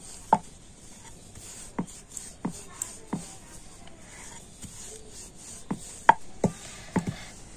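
A rolling pin works tomato paratha dough dusted with a little flour, giving a handful of soft, scattered knocks and brushing rubs against a quiet background, with no one talking.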